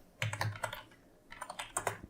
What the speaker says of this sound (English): We can just go and type the name.